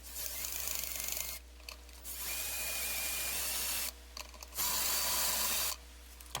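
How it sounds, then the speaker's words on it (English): A power driver loosening the tuners to remove strings from a 2017 Fender American fretless Jazz Bass, a loud close whirring in several bursts with short pauses between them. "Let's get these strings off."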